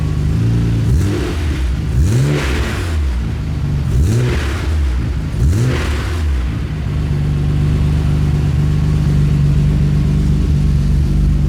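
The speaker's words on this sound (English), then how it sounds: "Here's a few revs right here." A Nissan GT-R with test pipes installed revs several times in short rising and falling bursts, loud and close, then settles back to a steady idle rumble.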